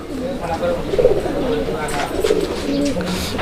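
A fancy pigeon coos nearby in repeated low, throaty phrases that swell and fade, with a person's voice mixed in at times.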